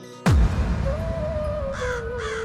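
A cartoon crow in a Hindi moral story caws in clear, loud harmonic calls, with a sharp opening burst, a sustained tone, then two nasal caws near the end.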